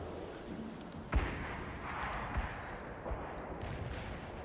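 Mortar shells thudding down in a World in Conflict battle, three distinct low booms spaced about a second apart, moderately distant, over a steady rumble of battlefield ambience.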